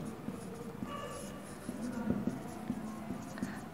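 A pen scratches out a handwritten solution during a class 7 math lesson, with short strokes and taps close to the microphone.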